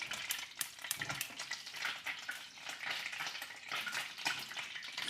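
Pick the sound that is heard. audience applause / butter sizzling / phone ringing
butter sizzling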